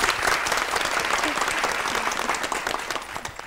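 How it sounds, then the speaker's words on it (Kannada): Studio audience at a Kannada cinema quiz show on television breaks into loud, sustained applause for the winners, dense clapping filling the moment and easing slightly toward the end. "ಸೊ ನಮ್ಮ ವಿನ್ನರ್ಸ್ಗೆ ಬರಲಿ ಜೋರಾದ ಚಪ್ಪಾಳೆ"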